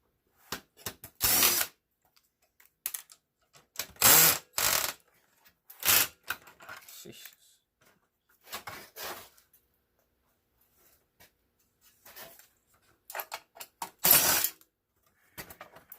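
A screwdriver backing screws out of a large commercial copier: short, repeated bursts of grinding, ratcheting clicks separated by silences, close and fairly loud, with no talking.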